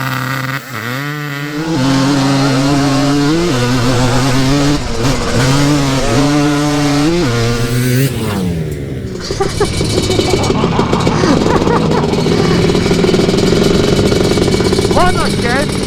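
Two-stroke quad bikes scream off the start line in a drag race, their engines revving hard and rising in pitch through the gears, loud and close, then fading as they pull away while people talk nearby.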